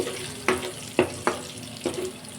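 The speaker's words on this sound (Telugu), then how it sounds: "పోపు సామాన్లు వేసుకున్నాను ఎండుమిర్చి కరివేపాకు జీలకర్ర ఆవాలు పచ్చెనగపప్పు" Dried chilli, curry leaves, cumin, mustard seeds and chana dal are tempered in hot oil for peanut chutney, a soft sizzle broken by four or five sharp crackling pops, close and fairly quiet.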